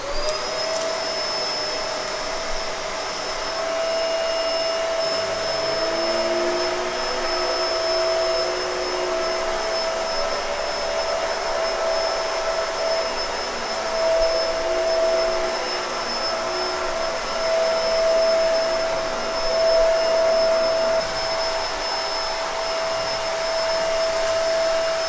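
A Bissell MultiClean Allergen Lift-Off vacuum cleaner runs continuously up close, a steady loud whirring drone with a high motor whine that holds evenly throughout, with slight shifts as it moves.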